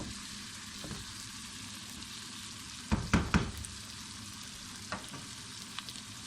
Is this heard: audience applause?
no